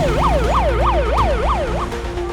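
An ambulance siren wails in a fast, regular rising-and-falling cycle, loud and close, repeating about six times before fading slightly.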